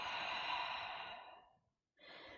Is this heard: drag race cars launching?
no